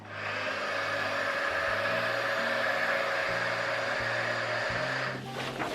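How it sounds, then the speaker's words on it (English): A heat tool blows steadily over freshly brushed epoxy resin on a carbon fiber layup, a continuous loud airy whoosh with a motor hum that holds evenly for about five seconds before cutting off. "And then a heat tool to pop as many of the air bubbles as possible."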